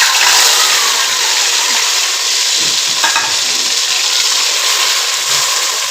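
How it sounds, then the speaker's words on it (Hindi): Tomatoes, green chillies and cumin seeds fry in ghee for a potato dish, giving a steady loud sizzle with stirring scrapes throughout and no voices. "और टमाटरों को जो है इसमें भून लेंगे"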